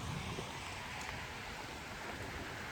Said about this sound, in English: There's a chance that you might get thicker rain, but it is less frequent